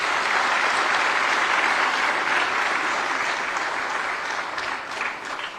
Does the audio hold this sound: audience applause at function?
yes